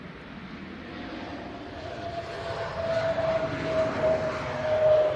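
A Turkish Airlines passenger jet coming in to land at Manchester Airport, a distant rising engine roar with a faint whine that grows louder toward the end.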